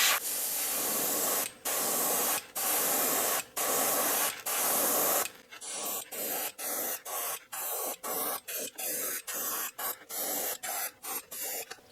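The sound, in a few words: airbrush spraying Testor's Aztec opaque black paint on lure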